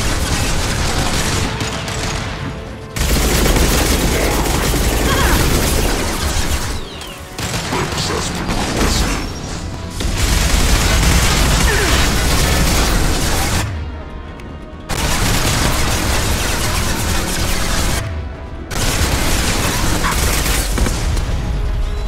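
Heavy, sustained gunfire and mechanical combat noise while an Overload power hits a mech in Mass Effect 2, loud and dense, broken by a few short gaps of near silence.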